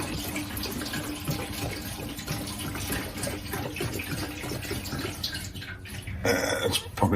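Fluid is poured into a Suzuki TL1000R motorcycle part to test it for leaks, with close liquid trickling and gurgling that runs steadily and grows louder and splashier near the end.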